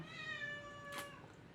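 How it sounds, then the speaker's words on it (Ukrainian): A pet cat meows once, a clear drawn-out tonal call of about a second that slides gently, heard close in a quiet home room over low background hiss, with a short breathy burst near its end. "А це Маргоша кричить. Котик"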